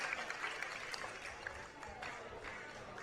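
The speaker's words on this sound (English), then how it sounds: "Riley Stam can call it a night with a bit of applause from the crowd just above him" A crowd at a football match applauds with steady, moderately distant clapping, mixed with faint crowd noise throughout.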